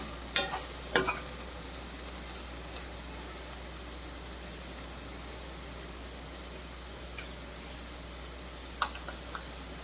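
Liver for pepper fry sautés in a pan with a soft, continuous sizzle, broken by a few sharp spatula scrapes and clinks near the start and again toward the end.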